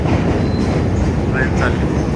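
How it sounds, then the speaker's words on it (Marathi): A train rumbles past on a Chicago street, a loud close continuous roar of wheels and cars with faint squeals, heard throughout without a break. "ट्रेन चालली."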